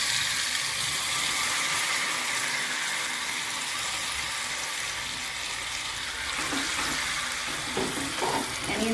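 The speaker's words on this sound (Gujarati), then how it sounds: "તેલ મૂકી એની અંદર ચટણી એડ કરી દઈશું।" Garlic and Kashmiri chili chutney sizzles loudly in hot oil for a momo recipe, a steady close crackling hiss that runs the whole time and is joined near the end by some stirring.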